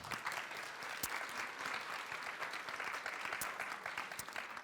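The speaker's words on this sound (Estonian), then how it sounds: "Üks aplaus veel." A seminar audience at an information day in Tartu gives a round of applause, dense steady clapping that holds at an even level throughout with no talk over it.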